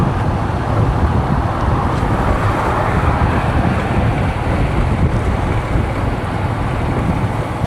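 Strong cyclone wind roars steadily and loudly through trees, a constant rushing, buffeting noise without pauses.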